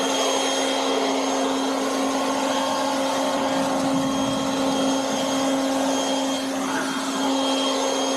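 A cheap electric leaf blower rated at 190 mph runs at its top turbo speed, a continuous loud whining roar with a steady high motor tone and rushing air, constant throughout without talk.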